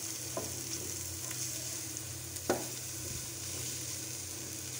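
Stuffed bitter gourd (karela) sautéing lightly in a pan, a soft steady sizzle with occasional stirring clicks and scrapes, close and fairly quiet, no talking.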